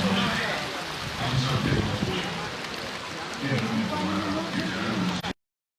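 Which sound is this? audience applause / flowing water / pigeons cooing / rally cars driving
flowing water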